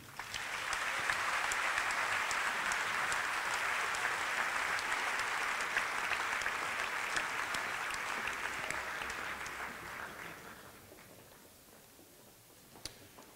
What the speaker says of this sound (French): Je pense qu'on peut de nouveau tous les applaudir.